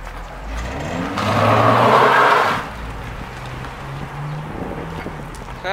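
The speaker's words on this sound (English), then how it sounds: "Let me hear a rev." A car engine revs once in a strong rising-and-falling burst of roughly a second and a half, then drops back to a low idle rumble close by, with a few voices faintly around it.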